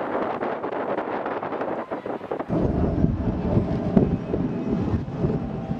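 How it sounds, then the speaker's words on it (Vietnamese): Strong wind gusts roar across a hilltop pagoda, a steady buffeting rumble that thickens and grows louder midway, battering the microphone with no voices heard. "gió thổi rất là lớn luôn mấy bạn"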